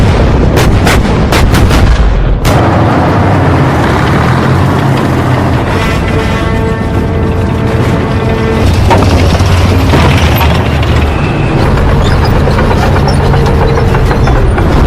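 Tank battle from the film White Tiger, with a rapid string of loud cannon and gun blasts opening the scene, then heavy rumbling engines and clanking tracks, further booming shots, all loud and close with no talk.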